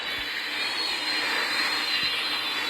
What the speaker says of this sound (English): What is that dream lifter doing? My goodness, that thing is crashing into the airport.